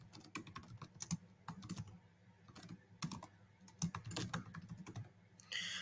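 Close computer keyboard typing comes in uneven bursts of quick clicking keystrokes with short pauses between, fairly quiet and with no voices.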